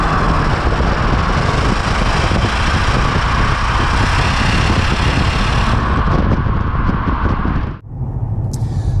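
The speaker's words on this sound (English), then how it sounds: "that wonderful supercharged kind of whine that comes from the engine" A supercharged Jaguar S-Type R pulls hard under acceleration with a loud, sustained engine roar and whine that drops off abruptly as the throttle lifts near the end.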